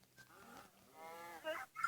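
A cow named Joiana lets out a drawn-out, low moo that swells and then breaks off, heard at moderate distance and fairly quiet with little else around it.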